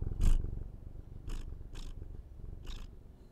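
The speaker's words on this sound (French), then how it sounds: "Vous avez vu comme il ronronne trop bien?" A baby creature in Subnautica: Below Zero purrs like a kitten, a low continuous rumbling purr close up, broken by a few soft breathy puffs at intervals.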